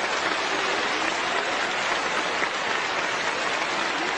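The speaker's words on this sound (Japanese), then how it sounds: "大きな拍手が起こっています。" Ballpark crowd applauding after a ceremonial first pitch, a steady wash of many hands clapping from a distance, continuous and even with no talk over it.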